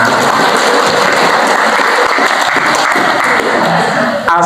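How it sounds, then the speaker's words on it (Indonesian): Audience at an Islamic religious gathering with an ustadz clapping together, a dense, steady wash of applause held loud and close throughout, with a short shift near the end. "Kita kasih aplaus untuk sukses semuanya."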